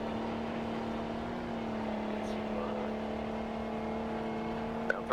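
Loud engine exhaust from a military vehicle in a modern-day Afghanistan combat video game: a steady, close, droning rumble with a strong low hum that holds throughout, with a small knock near the end.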